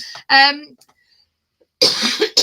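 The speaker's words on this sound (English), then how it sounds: "I still have a tiny bit of a cough hanging around, so I do apologise if I cough." Close coughing: a short throaty, voiced sound, a brief silence, then a harsh, breathy cough burst near the microphone.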